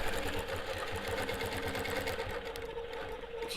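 A longarm quilting machine runs steadily as it stitches along ruler lines, a continuous close mechanical whir with a fast, even stitching rhythm throughout and no pauses.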